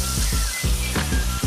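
Pieces of veal sizzle in a hot pan, a steady close hiss of frying that runs throughout under a louder rhythmic tonal sound.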